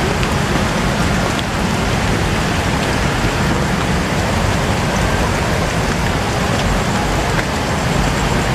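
Rain pours steadily at a labour culture park in Dharan, a dense, even hiss of falling water that stays loud and unbroken throughout.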